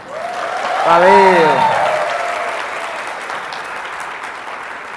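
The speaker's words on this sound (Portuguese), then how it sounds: "Salve de palmas para Everaldo de novo, pessoal" Applause for teacher Everaldo at a Brazilian exam-prep class, rising with cheering voices near the start and then tapering into steady clapping; someone speaks briefly over it.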